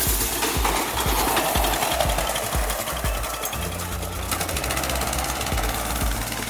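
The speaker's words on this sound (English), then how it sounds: "Casper's actually built his own go-kart." A homemade go-kart engine runs close by with a rough, rapid knocking chatter that stays loud and steady throughout, the pitch shifting slightly midway.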